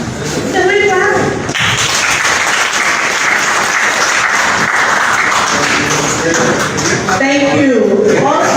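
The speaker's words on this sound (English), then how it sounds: "Can we clap?" An audience at a recognition ceremony for an integrity award breaks into sustained applause, many hands clapping loudly for several seconds, with a voice speaking briefly before and after.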